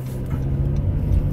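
A car drives along a road as a BMW driver lets it pull out, with a steady low engine hum and road rumble from inside the vehicle and nobody speaking.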